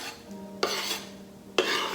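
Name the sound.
chopped ceviche ingredients being put into a bowl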